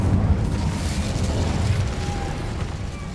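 Incendio fire spell in Hogwarts Legacy, a loud roaring whoosh of flame with rumbling low-end burst that sustains and slowly fades across a few seconds.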